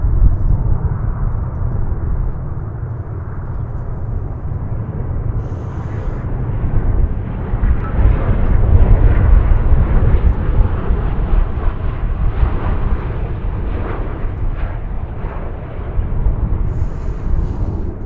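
Jet airliner taking off from runway 18 left at DFW Airport, a loud continuous roar that swells and lingers, heard from a distance with wind rumble.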